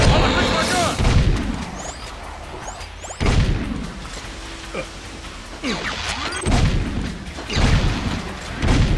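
Gunfire in the video game Jak 2 mixes heavy booming blasts and whooshes in several loud bursts separated by quieter stretches, with voices heard among the action.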